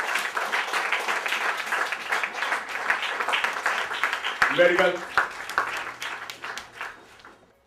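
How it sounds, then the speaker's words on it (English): Applause from an audience at a talk, dense and steady clapping, with a voice heard over it before the clapping thins out. "Give them a round of applause."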